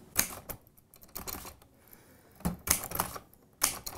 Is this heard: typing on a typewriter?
yes